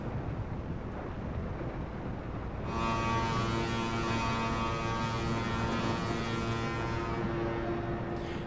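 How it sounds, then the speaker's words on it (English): A Norwegian Bliss cruise ship sounds its horn in one long, steady, loud blast that starts abruptly after wind noise and holds to the end. "am just going to give a little toot just so that they know which direction obviously we're coming"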